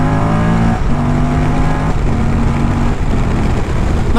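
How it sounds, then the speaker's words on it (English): A 2024 Moto Guzzi Stelvio motorcycle accelerates hard through the gears, its loud, close engine note climbing in pitch and then dropping at each of several quick shifts. "let's go run through the gears and test this powertrain"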